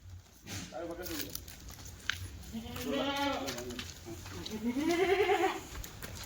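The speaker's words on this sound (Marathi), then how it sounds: "शेळ्या आलेल्या आहेत" Kathiawadi goats being bought for milk give about three loud, wavering bleats close by, spaced a second or two apart, while people talk around them.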